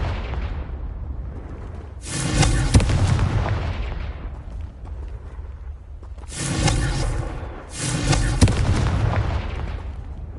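Confringo blasting spell explosions in Hogwarts Legacy, three loud, rumbling booms spaced a few seconds apart, each swelling then decaying into the background.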